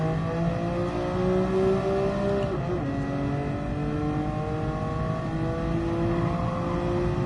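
Car engine in Gran Turismo Sport played in VR with a racing wheel, a loud, steady revving drone with rising pitch sweeps and a quick gear-shift drop, continuous throughout with no talking.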